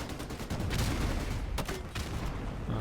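Dense gunfire in Call of Duty Modern Warfare Remastered during house-to-house urban fighting, a continuous loud fusillade of rapid shots with sharper bursts standing out, no talk.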